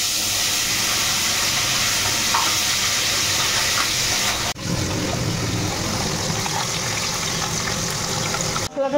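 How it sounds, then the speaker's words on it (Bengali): Bele fish, sand goby, frying in hot oil gives a close, continuous sizzle and crackle for the whole stretch. A short clatter breaks in midway and another comes near the end. "এই যে বেলে মাছটা তেলে দিই।"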